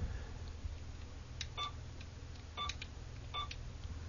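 Several short, high electronic beeps from a software button in EQASCOM sound in quick pairs over a steady low hum, quiet and evenly spaced.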